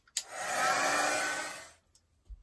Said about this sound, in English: give that a quick blast over with the heat gun